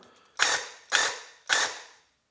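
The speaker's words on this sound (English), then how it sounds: "I'm gonna do a quick test spray." A Graco paint sprayer fires three short test bursts, each a sharp, loud hiss that starts abruptly and fades quickly, spaced about half a second apart.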